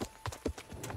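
Horse hooves clip-clop in a quick, steady rhythm in the medieval video game Kingdom Come: Deliverance, several close, dull thuds within a second.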